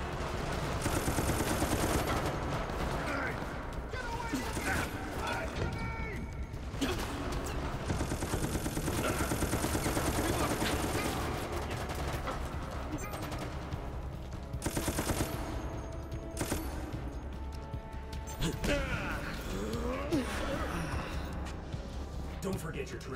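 Gunfire in the Resident Evil: Operation Raccoon City video game, with sustained automatic bursts and scattered shots over a dense game soundscape, loud and continuous throughout.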